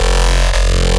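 A dense, buzzing synth bass holds a steady sustained tone, with a rising pitch sweep in the second half. It plays loud and alone, with no voices.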